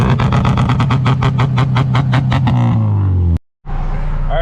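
An Acura RSX Type-S with a K-series engine, running a K-Pro street tune, revs hard at full throttle with a loud pulsing drone, then drops away before a brief cutout and a quieter idle.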